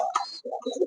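A Bombay pigeon coos close by in two short throaty bursts with a brief gap between, loud and clear with no voices.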